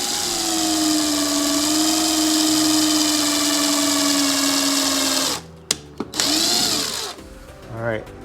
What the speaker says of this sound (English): drill bit to drill a pilot hole for these stainless steel screws right here